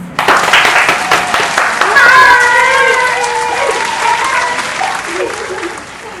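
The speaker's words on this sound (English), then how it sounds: "Let us give them a round of applause, please." An audience at a business communication talk show breaks into a loud round of applause for the guests, sustained for several seconds before tapering off, with some voices mixed in.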